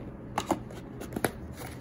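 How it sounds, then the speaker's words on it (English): A Moonology card deck gets shuffled in a few soft, brief riffles and taps, close and quiet, with no voices. "So I'm gonna shuffle this deck"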